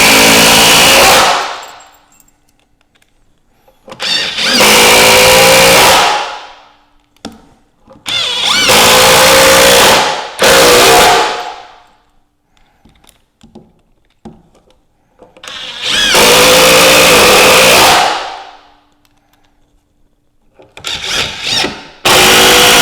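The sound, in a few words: cordless impact driver and drill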